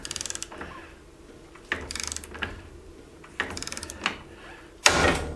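A ratchet pulled to torque a black phosphate-coated grade 8 bolt: four bursts of rapid, crisp pawl clicks close by, separated by short pauses, ending in a louder metallic clunk.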